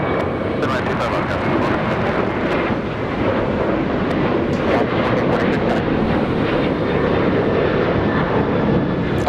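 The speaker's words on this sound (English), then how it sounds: "There goes Alaska 1446 flying to San Jose del Cabo, a 737-900." An Alaska Airlines Boeing 737-900 jet takes off from Los Angeles International Airport, a loud continuous roaring engine rush with wind buffeting, heard from nearby while voices talk faintly.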